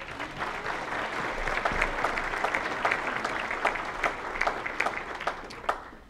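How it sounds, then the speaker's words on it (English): An audience at the Wigwam applauds its staff during a county address, a steady wash of clapping from a sizable crowd, moderately distant, with individual sharp claps popping out toward the end. "Big round of applause for being prepared for us today."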